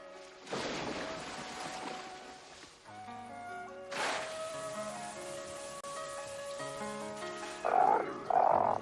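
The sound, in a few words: frog croaking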